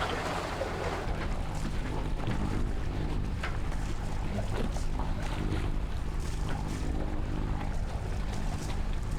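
A sailboat on a close reach under jib alone in a northeast wind off the coast of the Dominican Republic, with constant rushing wind, hull wash and water noise, loud and close, with no talking.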